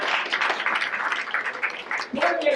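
Steady audience applause fills a ceremony hall as names are called forward, a dense wash of clapping that holds throughout with a brief dip near the end.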